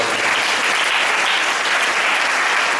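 A gathering welcomes a speaker back to the stage with applause: many hands clap loudly and continuously in a thick, even wash of sound that holds for the whole stretch.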